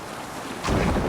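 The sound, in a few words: longship sailing on rough sea with wind, Assassin's Creed Valhalla video game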